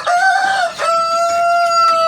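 A Dong Tao rooster crows close and loud, a clear drawn-out call with a brief break partway through.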